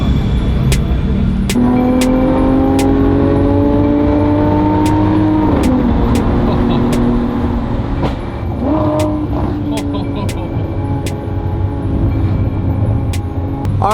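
A Lamborghini Aventador SVJ revving hard during a ride, rising engine tones climbing through gears, loud and close from inside, with clicking and cabin noise throughout.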